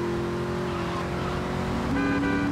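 A car driving in GTA Vice City, with a loud, steady engine drone that shifts up in pitch near the end, over road and game noise, with no talk.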